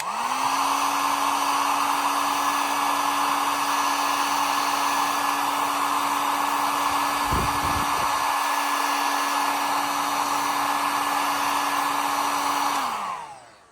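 A heat gun on its regular setting blows hot air onto a part for about 15 seconds, giving a steady, loud whirring hiss with a high whine that holds level, then winds down as it switches off.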